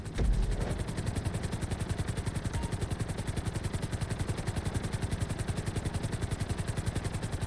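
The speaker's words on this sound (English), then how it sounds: "we'll see how well you handle the chopper" A helicopter flying in GTA 5 gives a loud, close, evenly pulsing rotor chop over an engine whine, steady and unbroken from start to finish.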